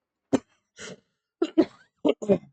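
Several sharp coughs close by, one after another in short bursts with brief pauses, including a breathy throat-clearing sound.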